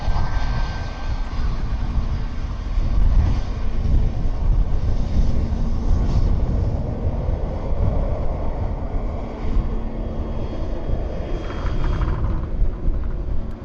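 A Ryanair airliner roars steadily at Dublin Airport, a loud, broad engine rumble that holds for the whole stretch with no talk over it.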